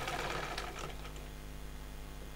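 A sewing machine runs a quick burst of stitching through salwar elastic, a close rattling whir that fades into a low hum, with no voices.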